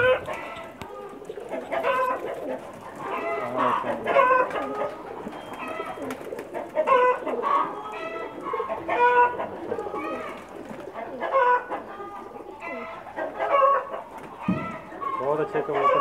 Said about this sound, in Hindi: बहुत अच्छे कबूतर हैं जी इनके माशाल्लाह।